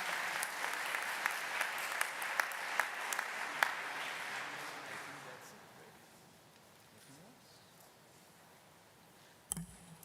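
Audience applause at a university commencement ceremony, steady crackling clapping for the first few seconds that thins and fades out, leaving quiet room tone before a brief bump near the end.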